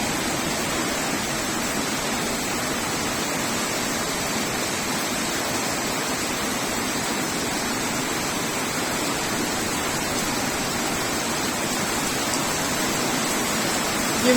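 Heavy rain pouring down steadily and loudly as a dense, unbroken hiss that swells slightly as it goes on, with no voices.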